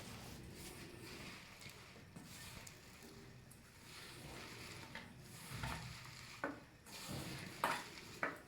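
Gram flour batter with mint leaves, cumin and salt being mixed by hand in a bowl, giving faint soft squelching and stirring sounds with a few light clinks, quiet and close.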